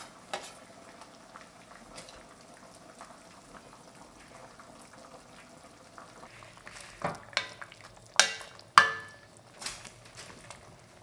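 Korean seaweed soup with beef, minced garlic and fish sauce being stirred in a pot: a faint, quiet simmer with scattered small clinks, then several louder spoon scrapes and knocks near the end.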